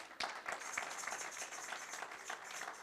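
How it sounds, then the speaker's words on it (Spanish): Audience applause at a church sermon on the birth of Jesus, a steady patter of many hands with a few sharper individual claps standing out, moderately distant and continuous throughout. "Denle un aplauso por eso."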